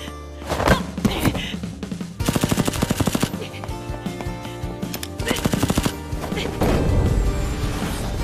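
An anime laser beam gun fires in rapid repeated bursts over a dramatic music score, loud zapping volleys broken by short gaps, with some voices in the mix.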